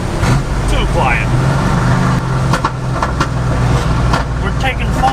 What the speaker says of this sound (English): You definitely needed louder mufflers, huh?